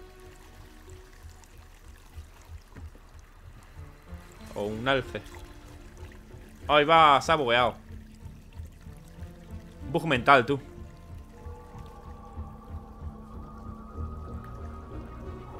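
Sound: running water from a tap in Assassin's Creed Valhalla video game

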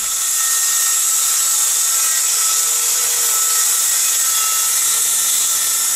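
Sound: DeWalt jobsite table saw cutting wood

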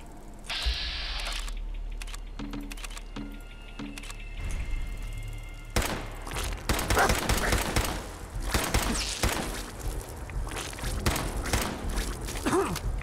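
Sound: gunshots from video game Fallout 4

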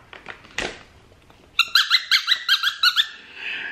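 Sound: natural rubber squeak ball dog toy squeaking

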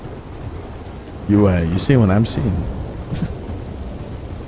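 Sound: thunderstorm in video game Red Dead Redemption 2

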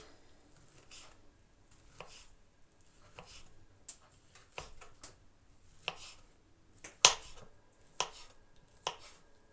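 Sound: knife cutting sausage into strips

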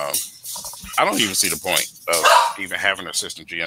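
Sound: dog barking in the background

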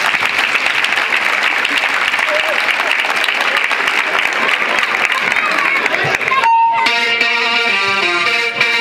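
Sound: audience applause for a rhythmic gymnastics group

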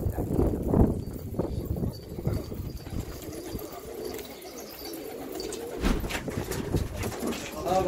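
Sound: fancy pigeons cooing

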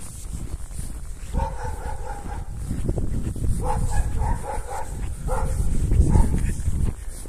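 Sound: dogs barking outdoors in a village

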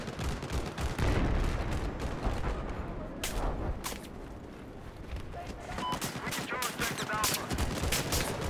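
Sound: sniper gunfire in video game Battlefield 4

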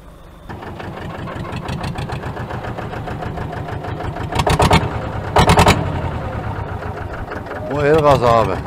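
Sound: tractor engine running while reversing

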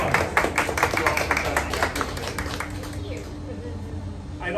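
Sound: applause at seminar

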